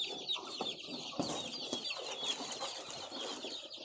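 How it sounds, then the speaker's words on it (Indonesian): Farm chickens of a gorilla crossbreed cluck and squawk close by in a steady chatter, with brief wing flaps and no talking. "Ini alhamdulillah ayam-ayam pilihan saya."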